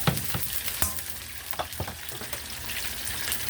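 Onions fry in a pan with a steady crackling sizzle, punctuated by a few sharp utensil taps and scrapes close by.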